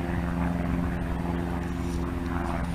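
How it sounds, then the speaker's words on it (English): A plane takes off at Aurora Municipal Airport, its engine a steady low droning hum with strong tonal bands, heard at a distance under light wind. "There's the aircraft taking off."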